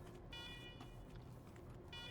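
Base alarms in the Wasteland 3 video game blare in a repeating pulsing wail with steady tonal bursts, faint and continuous with a low rumble underneath.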